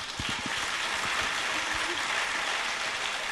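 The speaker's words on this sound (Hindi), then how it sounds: "बार बार ये देखिए तालियां बजा रहे हैं" Children applaud together at a school gathering, a dense, steady wash of clapping that fills the whole moment, with a few louder close claps near the start.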